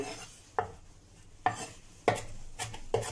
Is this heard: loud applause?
no